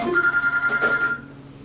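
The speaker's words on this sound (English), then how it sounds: "turn that phone off." A telephone rings with a steady electronic trill for about a second before cutting off, fairly close and without talk over it.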